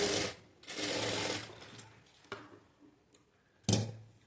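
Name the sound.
sewing machine stitching a blouse seam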